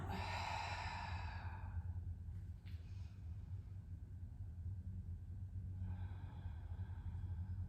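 A long, slow exhale at the close of a full-body Pilates mat session: a soft, airy breath that fades over about two seconds, close but quiet over a steady low rumble of room noise.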